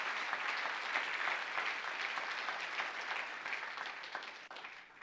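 A church congregation bursts into sustained clapping, dense and even, that holds steady and then tapers off slightly near the end.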